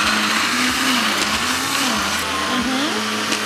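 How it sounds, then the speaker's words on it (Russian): Kitchen blender puréeing stewed vegetables cooked in a frying pan, a loud, steady whirring motor whose pitch wavers as it churns, running close and alone. "Мы переместили в блендер сейчас томившиеся овощи на сковороде."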